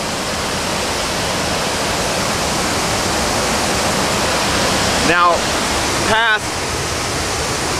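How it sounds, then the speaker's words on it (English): Steady broadband rush of water cascading down Beaver Falls, a waterfall on tribal lands bordering Grand Canyon National Park, loud and continuous with a brief spoken word near the end. "it continues on down there in a similar fashion of all this cascading water"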